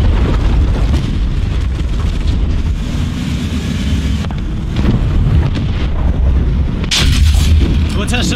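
Heavy tank cannon blasts from a Pz.Bef.Wg.IV J in War Thunder boom out with rumbling echoes amid wind and engine noise, a loud burst near the end.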